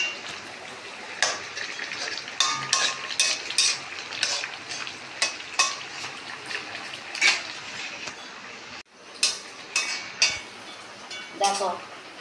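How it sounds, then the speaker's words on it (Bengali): Curry gravy with ivy gourd and Puntius fish simmering in a pan, with soft sizzling and bubbling under repeated clinks and scrapes of a stirring utensil against the pot. "দেখো ঝোলটা কিরকম ফুটছে, এই যে ছোট ছোট বুট বুট বুট বুট করে ফোট উঠছে"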